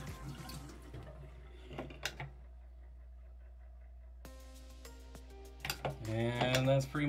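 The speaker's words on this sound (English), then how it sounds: "All right, fill it up with water again." Water running and splashing as a fish breather bag is filled, with faint drips and a louder gush of pouring water building near the end.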